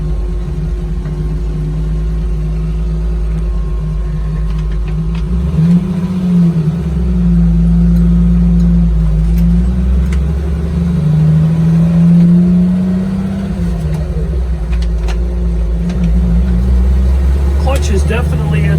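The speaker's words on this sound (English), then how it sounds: "I will let the truck run for a little while." A restored 1983 Jeep CJ7 idling after a test drive, its steady engine rumble close and loud, with a brief rise in revs partway through and no talk over it.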